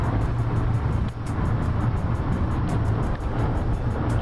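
Car driving, heard from inside the cabin: a steady low engine and road rumble that runs unbroken throughout, fairly loud and close, with no talk over it.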